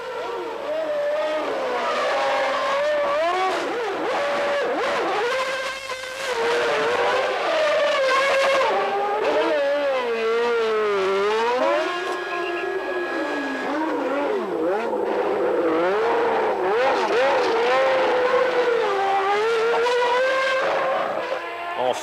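Formula 1 race cars from 1991 scream out of a busy pit lane in a continuous loud, rising and falling engine wail, with overlapping cars and tire squeal, while a voice talks over the racket.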